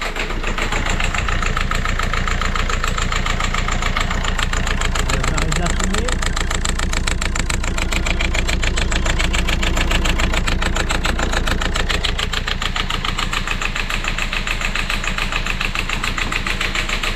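A Citroën C4 engine idles unevenly at close range, its steady rumble threaded with a fast ticking from clicking injectors; the running is continuous throughout with no voices.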